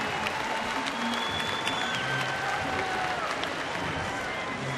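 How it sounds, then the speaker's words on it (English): Baseball stadium crowd applauding Yankees captain Derek Jeter at a spring game, a steady wash of clapping and crowd noise from a distance, with a commentator's voice over it. "Nice round of applause for the Yankee captain"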